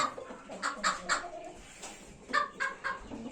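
A young pigeon cooing close by, soft repeated coos and low murmuring calls in short bursts, with no talk.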